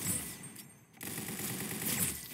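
Rapid bursts of gunfire in the Roblox game Arsenal, fairly quiet, with a short gap before the shooting resumes and runs on.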